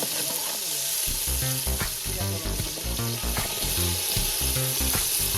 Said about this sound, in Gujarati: ટોમેટા પણ એડ થઈ ગયા છે